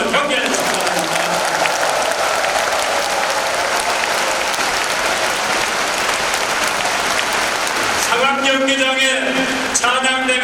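A large gathering at a Gyeonggi Province Christian prayer service in a gymnasium gives sustained, dense applause for the pastors, steady and loud throughout before fading into voices near the end.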